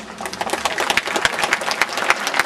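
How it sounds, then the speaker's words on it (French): Audience applause at a veterans' commemoration ceremony marking the 70th anniversary of the liberation in Blanc-Mesnil, a steady mass of clapping hands, moderately loud and continuous throughout with no voices over it. "pour les applaudir"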